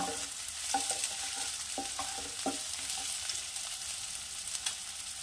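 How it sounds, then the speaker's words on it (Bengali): Chopped capsicum fries in a pan for a noodle soup breakfast, making a steady close sizzle with light scraping as it is stirred, and no talking. "ক্যাপসিকাম কিন্তু আমি সেদ্ধ করিনি, তাই এখানে একটু ভেজে নেব।"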